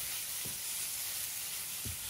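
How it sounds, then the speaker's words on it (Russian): Chicken frying in a pan gives off a steady, close sizzle that runs through the whole stretch, with two brief low knocks of the pan or utensil. "курица жарится"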